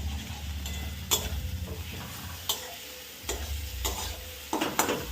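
Pasta mixed with garam masala and other spices is stirred in a hot pan, a steady sizzle under repeated scraping spoon strokes and occasional sharp clicks against the pan, close and moderately loud, with no talking.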